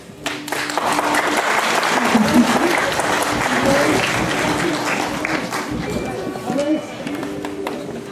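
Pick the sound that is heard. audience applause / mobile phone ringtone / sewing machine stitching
audience applause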